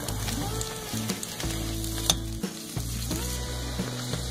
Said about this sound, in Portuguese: Vamos para a panela então, fritar o nosso alho.